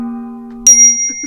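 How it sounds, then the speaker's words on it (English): A small hand bell rings once, loud and close, a bright metallic strike that leaves a sustained ringing tone, following a steady lower hum. "I have my own bell."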